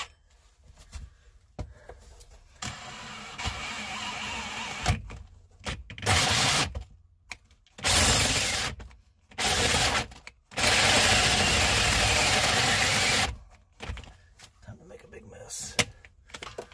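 A power drill bores a 2 3/8 inch hole through a van floor during a van conversion, with several loud sustained grinding bursts separated by pauses and a voice heard in between.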